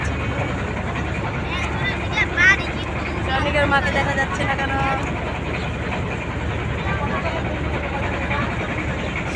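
A trawler boat's engine drones steadily beneath the voices of a group out on a pleasure ride, a constant low rumble running throughout while people talk over it.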